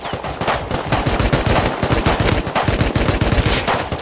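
Sustained automatic gunfire in the survival video game Rust, dense rapid bursts of shots rattling continuously and loudly with no pauses throughout.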